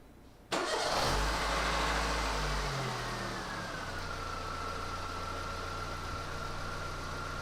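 A car engine cranks and catches, roaring briefly before settling into a steady, close idle that hums on without interruption, during a test of its exhaust transducer with an oscilloscope.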